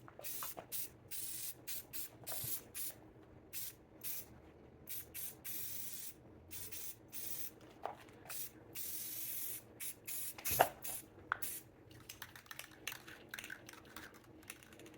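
A spray paint can sprays clear coat onto a restored wooden garden welcome sign, short hissing bursts in an uneven rhythm with pauses between them, close and fairly faint, with no talk.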